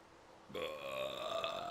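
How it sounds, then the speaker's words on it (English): One long, loud human burp begins suddenly after a brief quiet moment and rumbles on with a strained, gurgling tone, heard up close and alone. "Double disgusting burp came out of me, and I wasn't expecting that."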